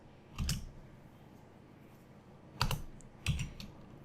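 A computer keyboard being typed on while entering LaTeX table commands, heard as three short bursts of key clicks separated by pauses, close and fairly quiet.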